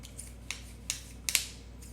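Fabric scissors cutting cloth: a few crisp, close snips spaced irregularly, with the last two in quick succession, heard alone against a quiet background.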